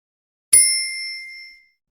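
A single bright bell ding in a children's song, struck once and ringing out cleanly before fading over about a second, heard alone.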